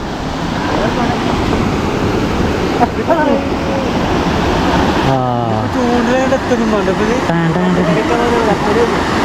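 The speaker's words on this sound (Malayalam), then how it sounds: "ഈ ഒരു കെട്ടിൻ്റെ ഇവിടുന്ന് ഇങ്ങനെ വെള്ളം ചാടും" Water pouring over a small village dam, a loud, continuous rushing roar heard close up, with someone talking over it for much of the time.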